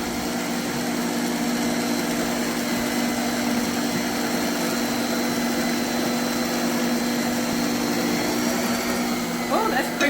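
An electric mixer creams frosting with powdered sugar, a loud steady motor whine that runs without a break near the microphone.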